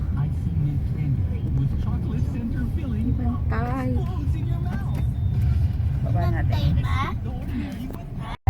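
Congested city traffic slowed by a nearby rally, a steady low engine rumble from cars around a vehicle, with people chatting close by throughout.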